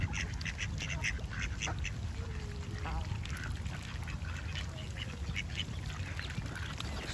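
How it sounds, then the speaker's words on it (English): Ducklings and their mother duck quacking over a constant background hiss, with short scattered calls and soft peeps rather than a loud chorus. "Look at the baby ducks."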